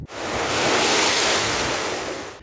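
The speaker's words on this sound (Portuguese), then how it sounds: "O mar ficou tão agitado que mal dava para ver a faixa de areia." Rough storm-driven sea surf crashes on a shore in a continuous loud roar of breaking waves, with gusting wind buffeting the microphone throughout.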